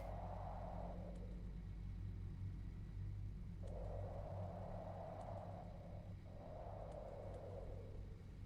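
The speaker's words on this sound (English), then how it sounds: "Oh, she just spirited away in her hover car." A hover car drives away in the video game The Universim, a low steady engine rumble under recurring whooshing swells that rise and fade several times.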